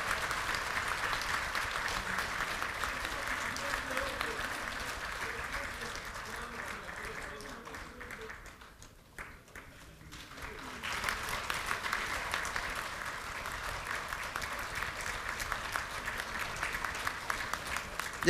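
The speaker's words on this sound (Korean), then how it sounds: "큰 박수 부탁드리겠습니다." A crowd at a party central committee meeting gives sustained applause, dense and steady, dipping briefly about halfway before surging back, with voices occasionally audible beneath the clapping.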